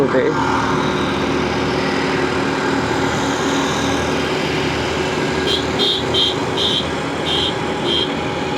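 Motorcycle ride heading toward Patenga sea beach, with a steady broadband engine and road rumble throughout and brief high chirps near the end, under a voice talking.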